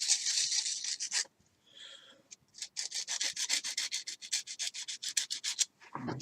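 Sandpaper rubs a small rotor piece for an Apogee Components Gyro Chaser model rocket, making rapid rhythmic back-and-forth scratching strokes, close and steady, with a brief pause partway through.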